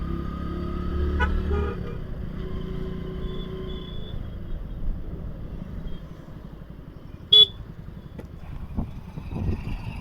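Road traffic of cars and motorcycles at a crowded temple fair on a wet, rainy day, a steady rumble of engines with occasional short horn toots, one sharp honk standing out.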